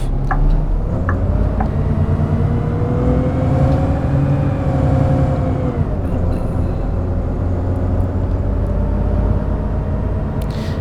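Bus in the OMSI 2 driving simulator pulling away from a stop, a steady loud engine rumble with whine rising as it accelerates, continuous throughout with no talk.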